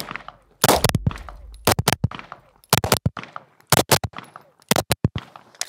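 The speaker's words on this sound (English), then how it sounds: "Now I'm gonna shoot doubles with an occluded dot with only one eye." Pistol shots fired at a target in rapid pairs, about five doubles spaced roughly a second apart, each crack loud, sharp and close, with no talking.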